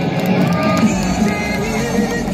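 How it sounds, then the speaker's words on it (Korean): A crowd at an outdoor Bucheon election rally for presidential candidate Kim Moon-soo cheers and applauds in a steady, dense roar, with scattered whoops rising over the mass of sound. "우리 부천 시민 여러분 다시 한번 큰 박수를 부탁드리겠습니다"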